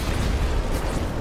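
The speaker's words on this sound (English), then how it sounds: "Using those double arc grenades there" Double arc grenades detonating in Titanfall during a competitive capture-the-flag match, producing a loud, dense burst of crackling noise that fills the whole short moment without a break.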